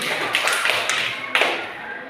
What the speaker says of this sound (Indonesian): Ya, tepuk tangan untuk Dewi dulu.